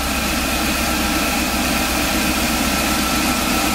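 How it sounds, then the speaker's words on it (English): A van engine idling roughly with a slight misfire gives a loud, steady, close rumble with constant vibration and no speech over it. "we've got a really rough idle. Well, it doesn't show up on camera, but the engine's vibrating a little bit."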